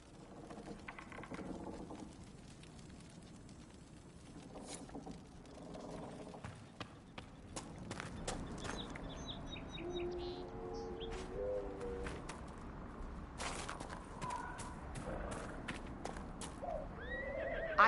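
A chestnut Ferelden Forder horse whinnies and neighs amid clopping hooves in the Dragon Age: Inquisition video game, with mechanical clicks and faint birds around it; the calls rise and fall over a steady outdoor bed.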